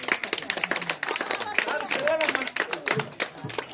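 Audience hands clap in a brisk, uneven rhythm along with devotional singing at a Ganesh laddu festival gathering, the claps close and fairly loud over the sung voices.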